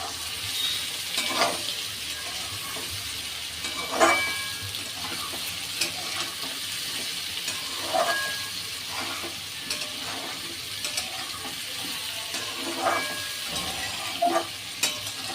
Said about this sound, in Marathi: आता आपण हे जरा तेलामध्ये परतून घेऊया